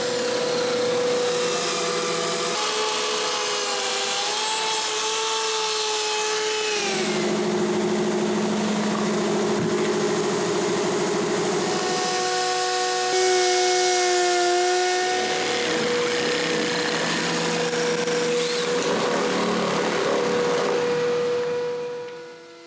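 Track saw ripping excess off a wooden tabletop in a furniture workshop, a loud sustained whining motor with shifting pitch as the blade bites, easing and resuming in several passes before winding down, no speech.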